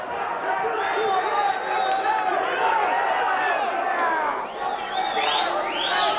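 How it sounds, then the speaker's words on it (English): A capacity wrestling crowd at the Hollywood Palace roars and cheers throughout, a dense continuous wall of voices with whoops and shouts rising near the end. "this capacity crowd here at the Hollywood Palace"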